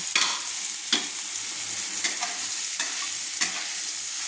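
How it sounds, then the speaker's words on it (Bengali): Soybean chunks coated in salt and turmeric are stir-fried in a wok. A constant sizzle runs throughout, cut by a sharp scrape of the spatula every second or so. "সয়াবিনটাকে আমি এবার ভেজে নেব কড়াইতে তুলে দিচ্ছি"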